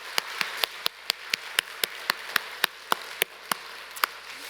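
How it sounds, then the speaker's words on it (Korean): A church congregation claps together in steady unison, a crisp evenly spaced beat of about fourteen sharp claps with no talking. "우리의 믿음의 분량만큼 큰 소리로 박수를 하면서 하나님께 영광의 박수 한번 올려드리도록 하겠습니다"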